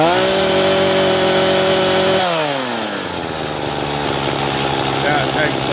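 Husqvarna T435 chainsaw engine running after a carb rebuild, loud and close: a high steady whine drops sharply to a lower idle that holds steady.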